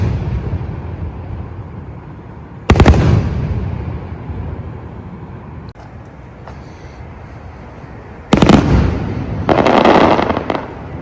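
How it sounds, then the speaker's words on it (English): Disney fireworks bursting behind a hotel, with a loud boom near three seconds, then a cluster of booms and crackles from about eight seconds on, over steady background rumble. "It's the fireworks from Disney, because it's right behind the hotel."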